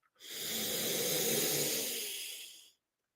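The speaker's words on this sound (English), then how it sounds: "So take a smooth breath in" Slow, deep inhale during a guided breathing exercise, a smooth airy hiss swelling over about two and a half seconds, close and alone, then stopping.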